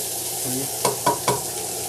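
Thyme sautéing in a hot pan off the heat, giving a steady soft sizzle with three short stirring scrapes close by.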